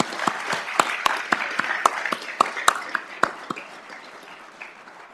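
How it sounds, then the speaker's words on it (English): Audience applause at a police academy graduation ceremony, a brief burst of clapping from a crowd in a hall that swells quickly and then fades away over a few seconds. "let's give them a round of applause"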